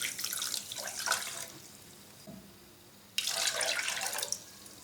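Two cups of water poured into a pan holding a cup of sugar for syrup, heard as two gushing bursts, the second one louder and longer, separated by a quiet gap.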